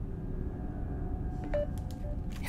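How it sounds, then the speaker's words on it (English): A mobile phone goes off indoors, a few short tonal beeps and chirps near the end over a low rumbling background. "my phone always seems to go off when I'm recording"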